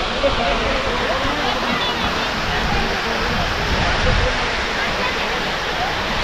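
The Kovai Kutralam waterfall near Coimbatore pours in heavy flow, giving a loud, constant rushing roar that fills the whole scene without letting up.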